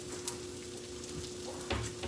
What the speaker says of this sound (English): So we've got that good and sizzling